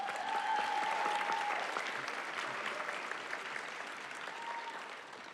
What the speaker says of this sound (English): Put a round of applause for them